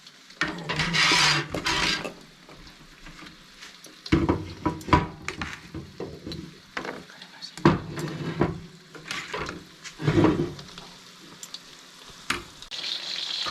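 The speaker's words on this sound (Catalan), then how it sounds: "Ara fregirem la llenguanissa." Sausage sizzling in a hot pan, with bursts of clattering as it is moved and stirred, and occasional quieter stretches of hissing.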